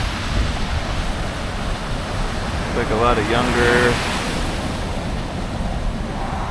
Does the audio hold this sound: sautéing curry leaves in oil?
no